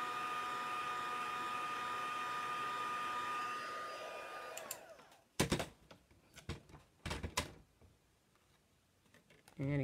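A heat tool blows a steady, loud whooshing stream to melt embossing powder on a card for about five seconds, then cuts off, leaving intermittent clicks and handling knocks.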